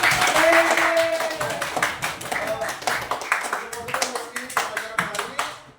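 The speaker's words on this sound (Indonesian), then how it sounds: "tepuk tangan untuk kita semua di hari ini" Children in a classroom clap together in a brisk rhythmic pattern, hand claps close by, with a teacher's voice heard over the first part before it fades out.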